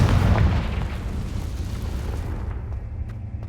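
A Confringo fire spell goes off in the Hogwarts video game with a loud, low, rumbling blast at the start that fades into a lingering roar. No voices are present.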